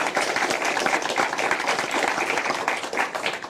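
Audience applauding at a televised EU debate in Britain as the last panel member is introduced, a dense, steady wash of many hands clapping throughout with no talk over it.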